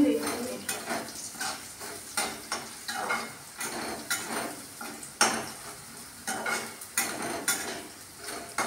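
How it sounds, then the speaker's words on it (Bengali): Potatoes, onion and garlic fry in a pan over lowered heat, stirred with repeated rhythmic scrapes of a utensil against the metal about twice a second. A soft sizzle continues underneath. "আলু, পেঁয়াজ, রসুন প্রায় ভাজা ভাজা হয়ে গেছে।"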